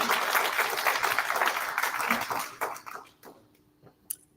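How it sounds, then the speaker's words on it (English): An evening lecture audience gives a round of applause, dense clapping that holds strong for a couple of seconds, then thins out to scattered claps and a final lone clap. "give them a round of applause."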